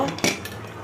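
A metal lid set onto a pot of boiling rice gives a short clatter and scrape of cookware, close and brief, with a low simmering bubble underneath.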